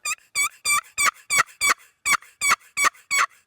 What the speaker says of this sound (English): from a friction, be it a box call or a slate call